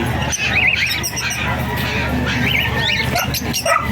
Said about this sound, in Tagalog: Siguradong may magugustuhan po kayo sa mga ibon ni Boss PJ.